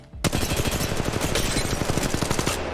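Sustained automatic weapon fire from the mobile shooter game Apex Legends Mobile comes as a rapid, steady burst of loud, dense shots that runs for more than two seconds before it cuts off.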